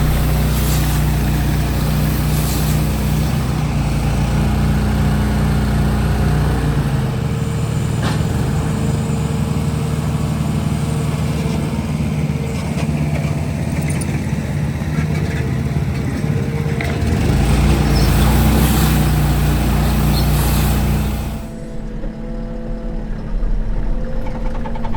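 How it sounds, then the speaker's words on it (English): The diesel engine of a Teleskid telescopic skid loader runs steadily at close range while unloading bales from a trailer, its rumble shifting in load and pitch before settling lower near the end. "We're unloading with the Teleskid from one side of the trailer."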